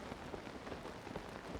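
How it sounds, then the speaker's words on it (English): Steady rain falls in Zelda: Tears of the Kingdom, a soft, even patter of drops with no voices over it throughout. "Oh, it is raining."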